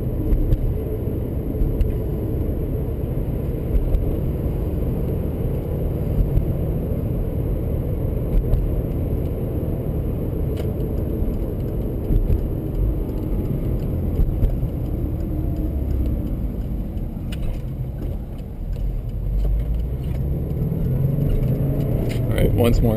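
Race car lapping a track through corners, a steady close engine drone and road rumble running throughout with small shifts in pitch, while someone talks over it.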